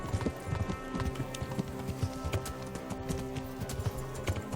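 A horse's hooves clip-clop at a quick, rhythmic gait in the video game Kingdom Come: Deliverance, a steady run of close hoof strikes over a faint background bed.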